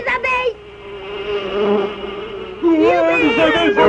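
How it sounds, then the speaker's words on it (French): Insects buzz steadily with a droning hum, joined by brief higher tones at the start and end. "Bravo, bravo, Castor a réussi à chasser les abeilles."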